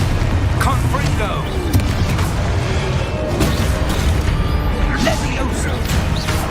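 Spell blasts and explosions boom and crash in Hogwarts Legacy combat, a dense, loud clamor of impacts over a steady rumble, with a voice calling out spell names throughout.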